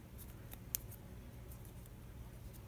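Scissors cut paper to make journal tabs, giving a few quiet, close snips with one sharper click, under a faint background hum.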